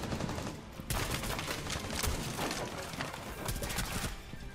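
Rapid gunfire from Rainbow Six Siege scoring headshots, a dense stream of sharp shots and impacts filling the whole stretch at steady close range with brief gaps, no voices.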